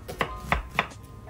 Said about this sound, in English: With this onion, I will cut it into halves, then